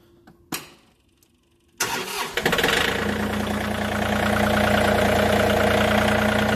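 A John Deere tractor engine cranks over after a couple of sharp clicks, catches and settles into a loud, steady idle close by, with no voices.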